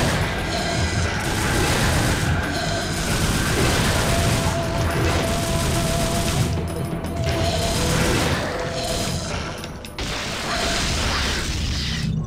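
Dense, continuous crashing and rumbling of explosions and mechanical clatter in the video game Devil May Cry, loud and sustained with a few brief dips.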